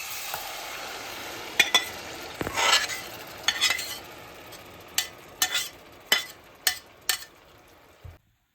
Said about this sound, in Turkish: Domates rendesini ekliyoruz